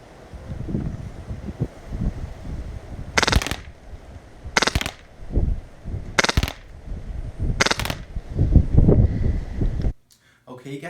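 An airsoft gun fitted with a flat hop fires four short, sharp bursts at an even pace during a shooting test, each crack standing out over background noise and soft talk.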